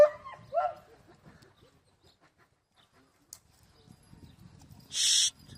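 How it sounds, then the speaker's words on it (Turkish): A shepherd dog gives a couple of short whimpering yelps, then near silence with faint shuffling, and a sharp high yip near the end. "Koçu özlemiş köpekler."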